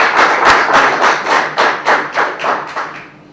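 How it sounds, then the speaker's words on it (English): Ceremonial applause for a triathlete, a slow, steady run of about ten loud, evenly spaced claps close by that trails off at the end, with no talk over it. "So we should actually give him a ceremonial applause right now."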